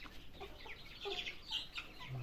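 Hens and roosters from a farm flock of roughly 140 birds cluck and murmur softly together, a low, busy chorus of overlapping calls heard fairly faintly.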